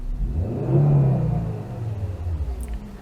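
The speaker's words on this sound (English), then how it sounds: "it's got just a hint of that 5-cylinder warble" A Ford S-Max's 2.5-litre turbocharged five-cylinder engine idles and revs with a low, steady rumble, swelling briefly then settling into an uneven warbling drone.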